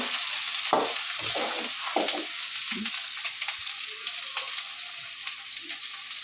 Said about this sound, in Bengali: মশলাটা একদম ভাজা ভাজা হয়েছে